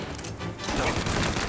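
Rapid bursts of gunfire in Mafia: Definitive Edition crackle densely, loud and close, with a booming low end throughout, including a point-blank 12-gauge shotgun blast.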